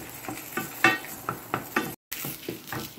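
Whole turmeric pieces fry in a pan for a Tulunadu-style egg masala curry, heard as a steady sizzle broken by repeated close clinks and scrapes of a spoon against the pan, with one brief dropout.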